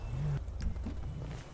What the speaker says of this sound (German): Ich hab einen Löwenangriff!